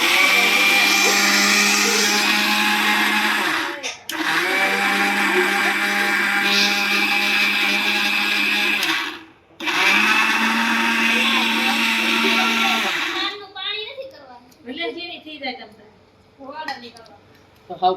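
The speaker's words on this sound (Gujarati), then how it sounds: "તો આપણે મિક્સરમાં કરી લઈએ." A mixer grinder whirs loudly, grinding sugar to powder for ladoos in two long steady runs split by a short pause, then stops as a voice talks over the quiet that follows.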